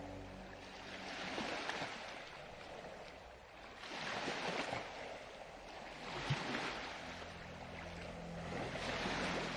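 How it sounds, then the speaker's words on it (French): Ocean waves on a calm sandy beach wash in and pull back in slow, soft surges, a faint, hissing rhythm that swells and fades several times with no one talking. "les vagues viennent et repartent sur le sable"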